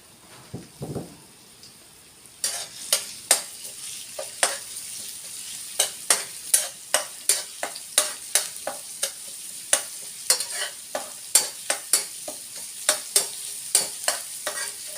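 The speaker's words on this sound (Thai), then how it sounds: "จะเจียวกระเทียมหน่อยเดียวนะคะ" Garlic fries in a little oil in a pan. After a quiet start, a close, crisp sizzle sets in with a regular series of sharp crackling pops and stirring scrapes that keeps going to the end.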